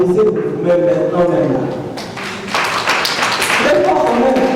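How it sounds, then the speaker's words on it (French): Audience members at a conference on job creation in Africa applauding themselves, a burst of clapping rising midway under a speaker's continuing voice. "applaudissez vous-même maintenant"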